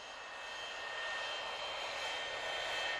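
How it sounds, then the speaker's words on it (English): An airplane engine drones steadily throughout, a continuous loud hum that swells slightly toward the end, with no voices over it, as in a children's TV shape-guessing segment. "It's Jeremy the plane."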